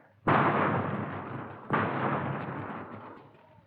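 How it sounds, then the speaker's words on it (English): Two long roaring bursts of machine gun fire used as a sound effect in a 1955 radio police drama, each starting with a sharp crack and trailing off, loud and close with no talk. "Here's the machine gun, Joe."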